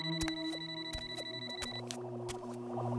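A phone rings for an incoming call from a brother, a steady electronic tone with repeated sharp pulses, fairly quiet and heard alone with no voices.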